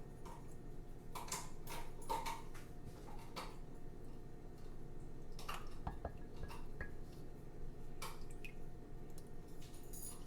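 A spoon stirs coffee in a cup, giving light, irregular clinks against the sides over a soft, steady background hiss.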